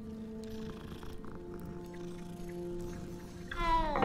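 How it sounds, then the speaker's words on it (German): A cat in Hogwarts Legacy purrs in a low, steady rumble. A brief brighter sound rises near the end. "Oh, Katze."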